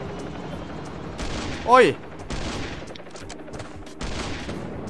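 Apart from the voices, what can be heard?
shotgun fire in video game Last Island of Survival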